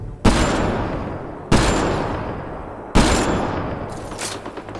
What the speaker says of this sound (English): Watch out, that's a field of death. Those are all turrets.